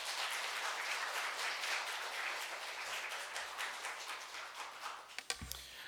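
A church congregation gives a welcoming round of applause as the pastor comes forward, a dense, steady wash of clapping that fades toward the end, followed by a few brief low thumps.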